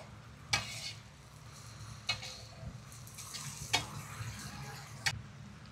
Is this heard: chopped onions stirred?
yes